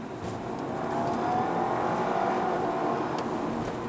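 An Audi A4 2.0 Quattro drives along with a steady engine and road drone, building slightly in intensity mid-way, heard from inside or close by without talk.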